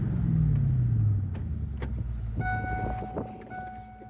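A 1996 Ford Mustang Cobra convertible with a 5-speed rumbles briefly at close range, its engine note sliding downward and then settling into a low, steady idle.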